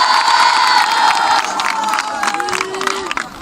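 A school crowd cheers and applauds for the girls' football team, the Tigresses, with shouting and whistling voices over scattered clapping, loud and lively before easing off.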